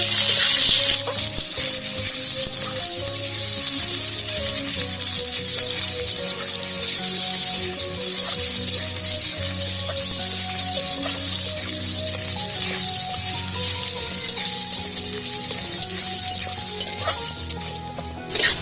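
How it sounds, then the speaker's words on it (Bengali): Thinly sliced onions fry in oil with whole cumin, cinnamon and cardamom, giving a steady close sizzle with occasional stirring scrapes and clinks running throughout. "পেঁয়াজকে আমি এরকম সরু সরু করে কেটে নিয়েছি দিয়ে দিচ্ছি ভেজে নেব"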